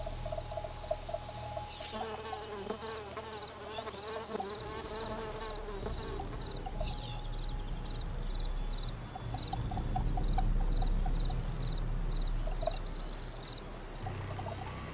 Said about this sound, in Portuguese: Esse zumbido que as moscas fazem é geralmente resultado do movimento das asas.